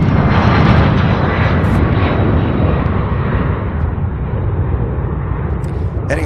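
A UPS cargo jet taking off from Louisville bound for Kansas City gives a heavy, close, rumbling roar with deep crackling low end, steady and loud throughout with a slight easing toward the end.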